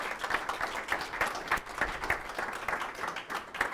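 Conference audience applauding at an annual investors' event, steady dense clapping filling the hall for several seconds with no talk over it.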